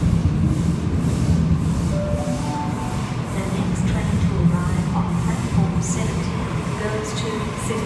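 A Sydney Trains City Circle service pulls into platform 17 at Central station, giving a continuous low rumble and hum with faint metallic squeals over the steady roar of the platform.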